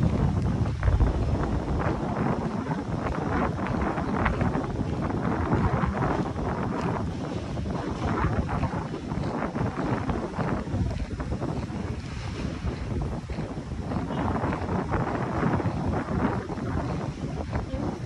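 Strong wind at the Manila Bay dolomite beach buffets the microphone in a loud, continuous roar of gusty rumble, with surf-like hiss underneath and no break throughout.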